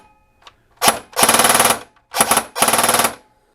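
An airsoft Perun P90 fired on full auto: a short single click, then four rapid buzzing bursts in two pairs, loud and close, with sharp mechanical rattling through each burst and silence between.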